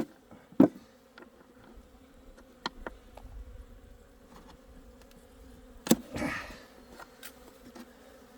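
Asian honeybees buzz faintly at an opened hive on a fine day, a low, steady drone with scattered clicks and a couple of sharp knocks, quiet and without talk.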